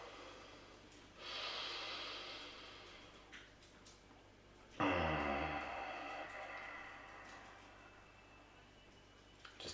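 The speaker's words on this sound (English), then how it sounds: "Just take a couple of breaths here to catch up." Deep breaths during a morning sadhana breathing exercise: a long audible inhale, then a stronger, sharper breath a few seconds later, close and quiet with no talking.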